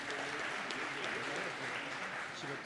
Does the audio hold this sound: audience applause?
yes